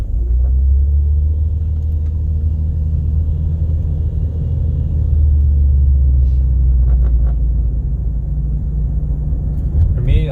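A car cruises along a road at night, its steady low engine and tyre rumble constant and close throughout, with no talking.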